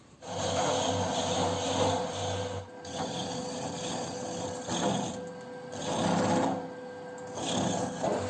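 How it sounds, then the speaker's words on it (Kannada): Half a coconut grated by hand, a steady scraping rasp in repeated strokes with brief pauses between passes, close and moderately loud. "1 ತೆಂಗಿನಕಾಯಿಯ ಅರ್ಧ ಭಾಗವನ್ನು ನಾನು ತುರಿದು ಹಾಕ್ತೇನೆ."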